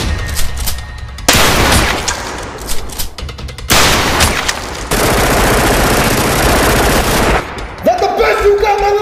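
Loud, close gunfire from a gun in the Warzone video game: sustained automatic bursts of rapid shots, separated by short breaks, with a mechanical tail at the end.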